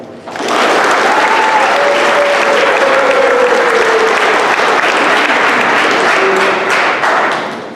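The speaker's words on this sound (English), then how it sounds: "Now let's give them a round of applause." Sustained audience applause at an undergraduate awards ceremony, a loud dense wash of clapping that fills the hall from start to finish with a faint voice briefly beneath it.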